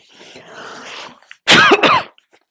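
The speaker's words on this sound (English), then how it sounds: "excuse me, now I have to cough" A soft breathy rustle, then a loud close-up cough burst in two harsh, throaty pulses before fading to quiet.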